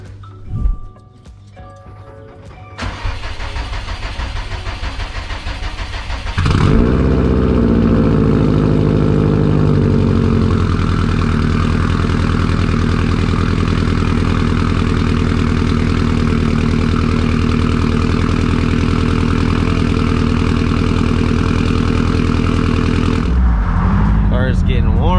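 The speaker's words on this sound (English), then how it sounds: "Let's get her nice cold start." A Subaru WRX STI with a Tomei straight pipe exhaust cold starts: a crank, then a loud, close, rumbling idle that settles high and steady for about twenty seconds before cutting off.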